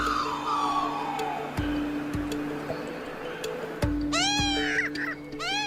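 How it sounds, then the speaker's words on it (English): An Australian magpie sings its warbling, fluting song, with rising and falling tonal phrases near the start and again toward the end, over faint background ticks. "the song of the magpie is the first sound we hear when we wake up"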